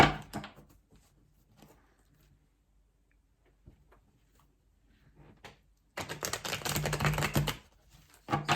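Quiet handling noises, then a quick, crisp riffle of tarot cards being shuffled up close, lasting about a second and a half.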